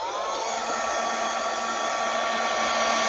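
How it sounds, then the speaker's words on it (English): A heat gun blows steadily and loudly, a constant whooshing roar with a faint whine, unchanging throughout with no talking. "So now I'm going to use my heat gun again"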